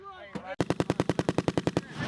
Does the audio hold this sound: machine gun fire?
yes